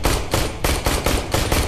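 Smartgun automatic fire in the video game Aliens: Colonial Marines, loud close bursts of rapid shots in quick repeated volleys with brief gaps between them, heard alone.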